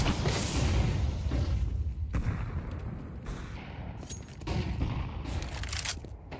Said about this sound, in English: Jesus, these first 20 seconds, continuous barrage of flashbangs, all in middle.